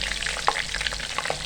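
Laddu peethi frying in hot oil, a steady close sizzle with crackling bubbles and a few brief stirring clinks, no voices.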